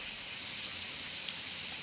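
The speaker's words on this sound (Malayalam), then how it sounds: "അപ്പോൾ മഴയും പെയ്ത് ഗൈസ് കേട്ടോ" Rain falls steadily in a video game, a soft, even hiss that holds unchanged throughout with no distinct drops or voices.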